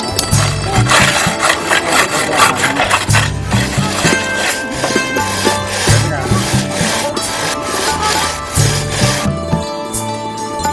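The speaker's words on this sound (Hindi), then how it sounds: "तब सांचे को तोड़कर कलाकृति को ब्रश से साफ कर लिया जाता है।" A bell metal casting is brushed clean after its mould is broken, giving loud, rhythmic scrubbing strokes in a rapid back-and-forth pattern that continues steadily, close to the listener.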